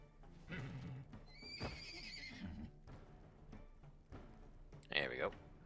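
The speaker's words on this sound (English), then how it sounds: "Go, Battle Horse. You can do it." A horse in the video game Wartales whinnies twice, one long neigh early and another near the end, with hoof clops and a person talking underneath.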